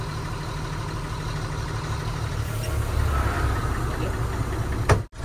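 A lorry engine running as the truck is moved, a steady mid-pitched rumble that builds slightly in the middle and ends with a sharp click and a brief dropout.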